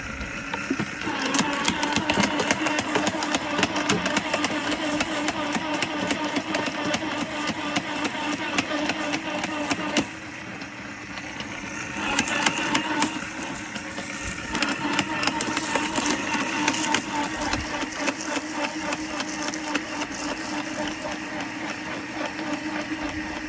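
A Husqvarna GS 340is cordless garden branch shredder runs steadily nearby, a loud continuous whirring motor with a brief dip in level partway through, then the same steady drone resumes.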